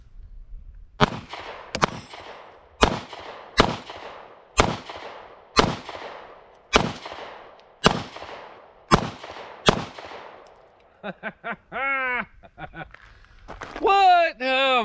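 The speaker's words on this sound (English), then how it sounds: "I'm gonna shoot a little bit faster here." An SCCY CPX-2 Gen 3 pistol fires at a shooting range, about ten sharp, loud shots in a quick, fairly steady string, followed by someone talking.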